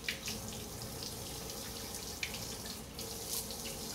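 A bathroom sink tap runs steadily as makeup brushes are rinsed under hot water, a soft continuous hiss and splash with a few brief splashes and drips, close and fairly quiet, with no talk.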